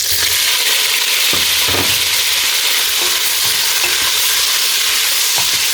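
Scampi sizzle loudly in a hot frying pan, a dense close hiss punctuated by scraping and clattering stirs, with no voices.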